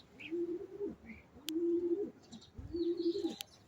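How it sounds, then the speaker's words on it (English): Pigeons returning to a home loft give three drawn-out, rolling coos, each lasting about half a second, with a few faint higher chirps between them, close by and clear. "Damn birds"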